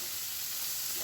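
Onion, green chili and garlic sauté in a pan with a continuous, even sizzle and the soft scrape of stirring, quiet and unbroken with no voices.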